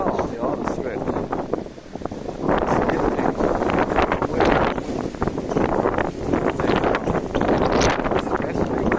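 Wind buffets and roars across the microphone of a cyclist riding through Vancouver, BC streets on a gusty day, a continuous loud rumble with swelling gusts and rustling throughout.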